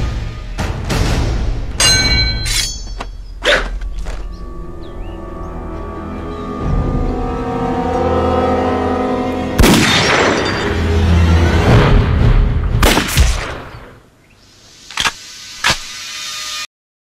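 Gunshots from a sniper scene in an anti-Japanese war film ring out as several loud, sharp blasts spaced across the clip, among booming impacts and dense movie sound effects.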